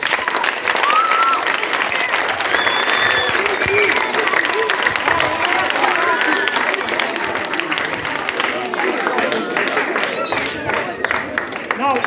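Students clap at a school farm awareness event outdoors at a college, with continuous, dense applause and scattered cheering voices. The sound holds steady at a fairly loud level for about twelve seconds.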